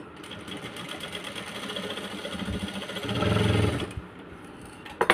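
A sewing machine runs steadily while stitching a blouse, a fast continuous mechanical whir and chatter that swells slightly before stopping, close up with no talk.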